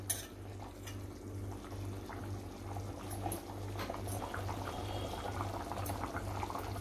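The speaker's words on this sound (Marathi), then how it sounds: "अजून आपण 2 मिनिटं चांगली उकळून घेऊया ओपनमध्येच." Bangda mackerel curry bubbling steadily in an open pan, a soft continuous simmer with faint pops and a low steady hum running underneath.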